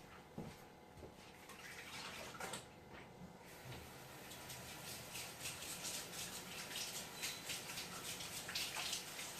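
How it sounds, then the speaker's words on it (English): Hands are washed under a running kitchen tap, giving a quiet, steady rush of water with soft splashing and a few faint knocks, heard alone without speech. "let me wash my hands"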